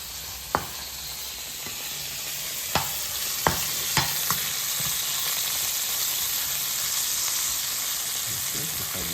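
Salted fish frying in oil in a pan gives a steady, close sizzle and hiss throughout, with a few sharp pops and clinks of a utensil stirring.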